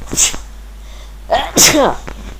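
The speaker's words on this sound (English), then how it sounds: "can't help sneezing" Two sharp sneezes, close up, the second louder and followed by a brief exhale.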